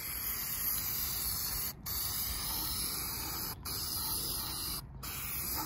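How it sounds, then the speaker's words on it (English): A spray paint can hisses in long, steady bursts onto a PVC lightsaber hilt, with three short breaks between sprays, close and loud with no talk. "now we're gonna spray paint this side"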